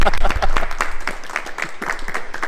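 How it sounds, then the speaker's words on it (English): A small crowd applauding a racing team at an endurance race at Silverstone, quick close claps in a dense, steady burst throughout. "Give us a round of applause."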